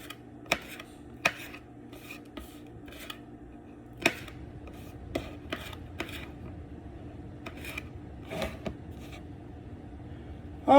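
Small ingredients for taco pasta salad are cut up on a board, with sharp knife taps and light scraping at irregular intervals over a quiet background.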